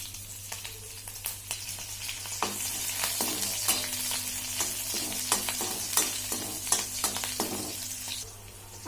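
Green chillies frying in hot oil for sabudana khichdi, with a steady close sizzle and repeated scraping stirs clattering through the whole stretch; no voices.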